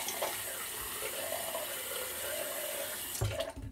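Cold water runs steadily from a tap for rinsing a razor during a shave, a continuous close splashing hiss that ends with a brief clatter and louder splash.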